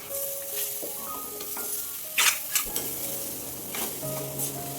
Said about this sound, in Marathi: आता आपण इथे बारीक करून घेतलेली कोयरी घालून घ्यायची आहे यामध्ये। आता आपण हे छान हलवून घेऊया।